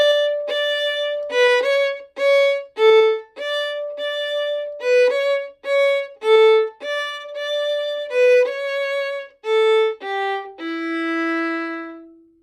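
A guitar picks out the opening phrase of Cielito Lindo as a string of clear single notes, some repeated, ending on a longer ringing low note, played alone.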